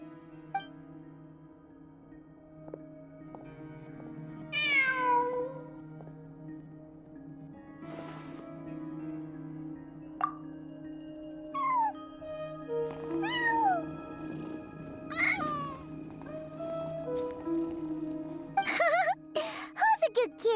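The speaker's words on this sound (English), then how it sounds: "Who's a good kitty? Come on, shake." A cat in Genshin Impact meows several times at scattered intervals, some calls short and others drawn out, over a soft, steady background hum of game music or ambience.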